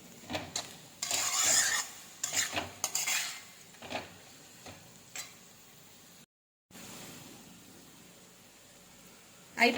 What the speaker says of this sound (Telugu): కారం వేసుకుని ఒకసారి మొత్తం కలుపుకుందాము.